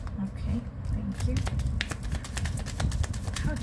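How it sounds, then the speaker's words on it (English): Tarot cards shuffled by hand at a reading, a quick series of crisp riffling clicks and snaps at close range over a low background murmur, steady for several seconds. "One more shuffle."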